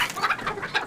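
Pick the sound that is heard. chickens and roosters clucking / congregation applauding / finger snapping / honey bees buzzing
chickens and roosters clucking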